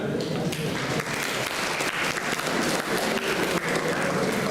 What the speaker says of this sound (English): let's give a big round of applause for him